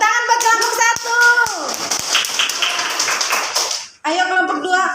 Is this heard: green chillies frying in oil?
no